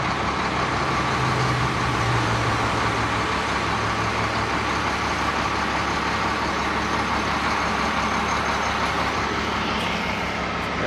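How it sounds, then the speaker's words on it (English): Heavy road rumble from a livestock truck passing on a highway in British Columbia near Fort Fraser, a steady loud drone heard from inside a moving bus throughout. "And there's a animal truck,"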